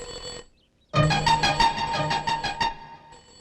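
Telephone ringing indoors: a short electronic tone, a brief gap, then a fast pulsing ring of repeated bright bursts lasting about two seconds, moderately loud with no talk over it.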